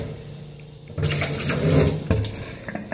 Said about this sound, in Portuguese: Já enchi de água, vou pôr aqui as tampinhas